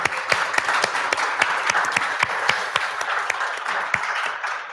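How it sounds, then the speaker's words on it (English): Applause from a seated audience at a university library book discussion, many hands clapping steadily and densely throughout, fairly close and filling the room with no voices over it. "Round of applause."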